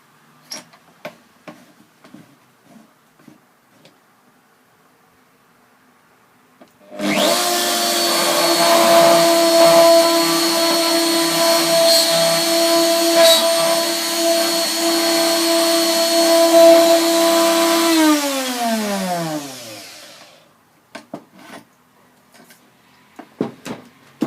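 A power drill whirs steadily for about thirteen seconds while boring a guide hole into wood, then winds down, with scattered clicks and knocks before and after.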